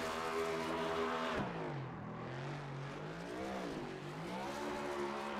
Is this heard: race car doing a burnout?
yes